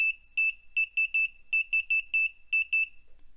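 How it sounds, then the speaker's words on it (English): A shrill active electronic buzzer beeps in rapid bursts, grouped in clusters of short tones, loud and close with nothing else audible. "This is the active buzzer. As soon as I give it some voltage, it will start to beep"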